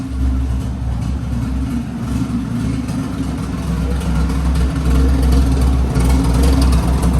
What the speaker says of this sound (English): She's idling pretty decent